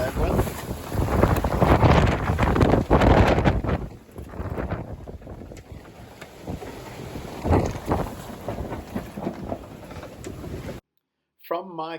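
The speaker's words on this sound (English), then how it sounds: "The wind and waves kept building all night until we were down to a sliver of the jib out" Strong wind roars and waves crash against a sailboat at night, a constant heavy rush with surging gusts and buffeting on the microphone, and a voice speaking over it before a brief cutoff near the end.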